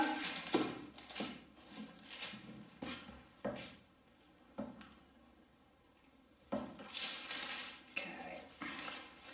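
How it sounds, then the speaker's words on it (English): A utensil stirring a glitter-flecked art resin mixture in a cup, a series of irregular light scraping and tapping knocks with short pauses and a quiet gap midway, close and fairly soft. "So I'll just give that another stir up."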